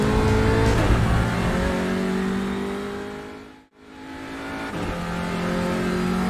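Onboard an Audi RS3 LMS TCR race car lapping Brands Hatch: a loud, continuous engine roar climbs in pitch, cuts out abruptly for a gear change or lift, then builds again, with no speech.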